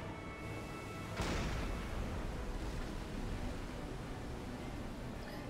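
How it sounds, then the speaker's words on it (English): A deep, rumbling blast bursts in abruptly and then lingers as a broad, roaring wash of noise, a naval explosion in the submarine game Silent Hunter 5, with no voices over it. "More explosions, lovely."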